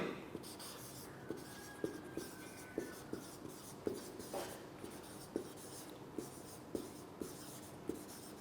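Writing on a board during a chemistry lecture on isotopes, with regular light taps and scratches of the marker or chalk, faint and close, and no voice over it.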